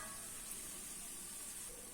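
Bori lentil dumplings fry in a pan with a steady, soft sizzle that holds evenly throughout, faint and close, with no voices.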